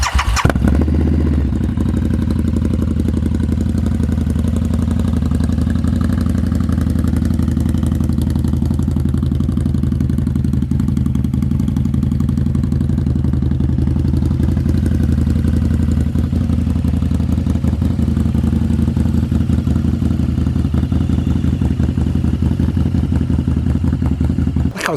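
A motorcycle cranks from cold and catches within a second, then settles into a loud, steady, slightly lumpy idle with a faint mechanical clatter that runs unbroken for the rest of the clip, with no talking.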